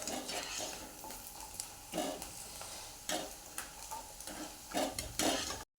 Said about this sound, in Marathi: तेल चांगलं कडकडीत गरम झालं ना आपण सांडगे ह्याच्यामध्ये टाकून घ्यायचे आणि तळायचं